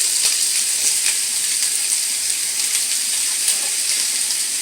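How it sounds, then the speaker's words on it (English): Green pepper and onion sizzle in hot olive oil on a stovetop for a vegetarian chili, giving a steady, dense, close hiss that runs unbroken throughout. "So we're going to put in the green pepper and the onion."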